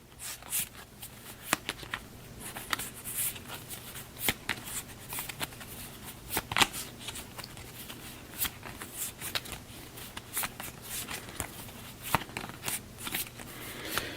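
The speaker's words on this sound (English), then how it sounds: "So we'll give this another pretty crappy shuffle." A deck of cards is shuffled by hand in a long stretch of rapid riffling and snapping flicks in uneven bursts, close and fairly quiet, with no voices.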